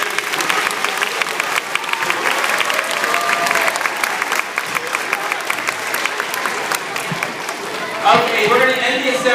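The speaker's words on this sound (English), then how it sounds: "Give her a round of applause." Students at a school assembly applaud in a loud, sustained burst of many clapping hands, with crowd noise and voices rising near the end.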